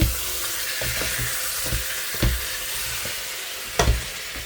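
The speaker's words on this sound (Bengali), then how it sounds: "এখন এটাকে ভালো করে না চালটা ভাজা ভাজা করে পানি দিয়ে দিব" Rice frying in a pot for biryani gives a steady sizzle with several sharp scrapes and clanks of stirring, close by, with no voices.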